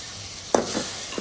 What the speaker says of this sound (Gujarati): હવે આપણે નાખી દઈશું ટમેટા